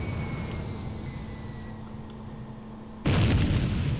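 In the Lock On flight simulator game, a bomb hits its target with a sudden loud broadband blast after three seconds of steady aircraft engine drone, and the rumble carries on to the end.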